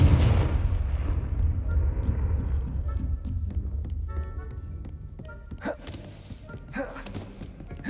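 A Confringo fire spell from Hogwarts Legacy explodes with a heavy booming blast that decays into rumbling debris, followed by scattered thuds and clatter.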